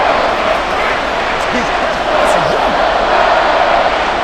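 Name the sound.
crowd cheering in Madden NFL 24 video game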